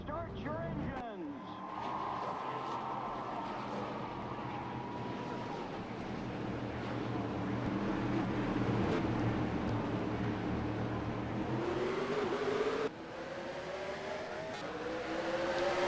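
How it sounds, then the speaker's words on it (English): Race car engines in a NASCAR-style ARCA racing video game at Langley Speedway fire up and rev into a sustained droning roar that builds and shifts pitch, with a commentator speaking over it. "Gentlemen, start your engines."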